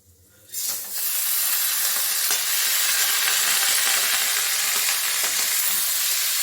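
Raw rice for pulao hits hot oil in a pan and fries with a sudden, loud, continuous sizzle and hiss that holds steady, close to the pan.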